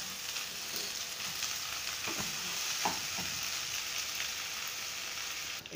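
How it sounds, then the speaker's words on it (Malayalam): Egg fried rice stirred in a pan, a steady close sizzle with scraping spatula strokes running throughout, no voices. "നമുക്ക് നന്നായിട്ട് ഇളക്കി കൊടുക്കാം."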